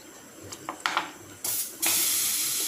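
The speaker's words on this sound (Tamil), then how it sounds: "இந்த போனெல்லாம் கழுவி சுத்தம் பண்ணி வச்சுருக்கேன் அதையும் இதில் போட்டுக்கலாம்" Washed, cleaned chicken bones hit a hot pan of masala for a Tamil chicken bone gravy, setting off a sudden loud sizzle that swells into a steady hiss after a few soft clinks.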